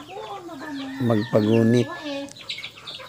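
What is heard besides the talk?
live chickens clucking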